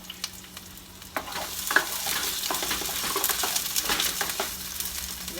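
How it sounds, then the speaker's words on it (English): Onions softening in a pan over moderate heat give a steady, close sizzle, with stirring scrapes breaking through the frying noise throughout. "You want the onions to get a little soft without burning or without getting brown."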